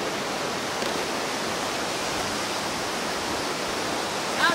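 Waterfall at a family campsite, a steady, dense rush of falling water heard up close and loud throughout, with no voices over it.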